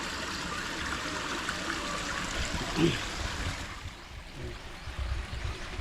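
A small mountain creek flows downhill over rocks, giving a steady, fairly close rushing and trickling sound that swells briefly, then eases off.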